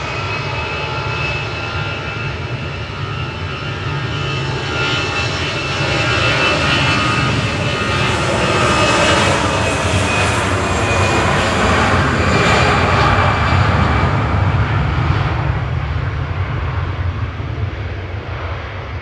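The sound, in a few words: EasyJet jet airliner departing to Bilbao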